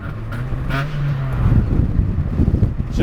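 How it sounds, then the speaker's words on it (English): A Honda Civic Si engine with a rusted exhaust that has a big hole in it drones loudly and close up, with a rough, raspy exhaust note that rises and falls as the car accelerates. "it also has a massive hole in the exhaust, which makes it just hilarious."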